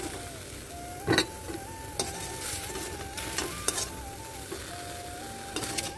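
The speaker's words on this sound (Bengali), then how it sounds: "একটু 3-4টে রসুন কোয়া দিয়ে, শুকনো লঙ্কা আর এটা রসুন একটু হালকা ভেজে নিচ্ছি।" Garlic cloves and dried chillies frying lightly in a pan: a constant soft sizzle with a few brief clinks and scrapes of a utensil, and a faint steady tone running underneath.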